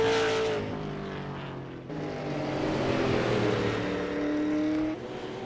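Super Late Model stock cars race at New Smyrna Speedway, engines droning at high revs as cars sweep past, a sustained loud roar that swells and dips with each pass.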